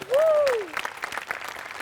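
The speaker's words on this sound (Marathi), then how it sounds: "मोठे आणि प्रथमेश, तुमच्या दोघांसाठी प्रचंड टाळ्या" A studio audience at a Marathi comedy show applauds the performers, a brief burst of clapping rising after a sliding tonal sound effect at the start.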